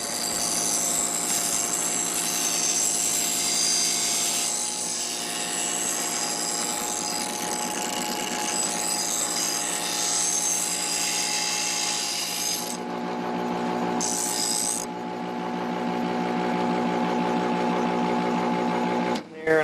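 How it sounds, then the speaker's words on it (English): A forged camp knife edge is ground to remove small irregularities, producing a loud, steady, continuous whine with a droning motor tone that holds throughout and shifts slightly near the end. "Now I'm going to grind some of the little irregularities out of the edge there and just even it up a little bit"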